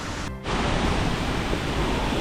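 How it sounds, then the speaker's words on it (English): A waterfall deep in the jungle of northern Bali roars as a steady, loud wash of broadband noise, briefly dipping at the start before holding constant. "I can see the waterfall right there"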